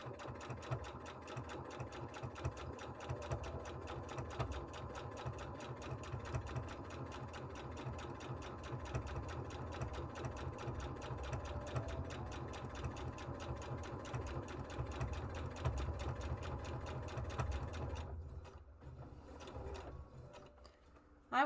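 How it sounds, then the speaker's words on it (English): A sewing machine runs steadily and continuously at a fast stitching rhythm, fairly close, then stops near the end, leaving brief quiet and a few small clicks. "Sewing machine sounds calming."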